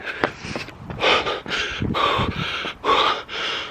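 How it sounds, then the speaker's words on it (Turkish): Heavy, ragged panting after running to hide among trees at night, loud close gasping breaths in quick bursts with brief pauses between them. "Nefes nefese kaldım."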